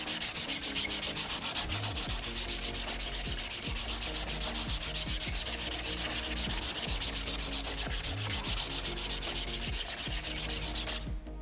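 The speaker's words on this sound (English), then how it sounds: "and you just start sanding away" Hand sanding of a wooden guitar neck while rounding it, a steady loud scratchy rasp of abrasive strokes repeating back and forth without pause, alone with no talk.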